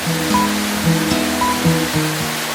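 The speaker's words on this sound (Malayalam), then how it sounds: "ഇതാണ് കുറ്റാലം വാട്ടർഫോൾസ്" Courtallam waterfall, the largest of the falls there, pouring down steep rock from the Western Ghats, a loud steady roar of crashing water heard up close with faint tonal sounds over it.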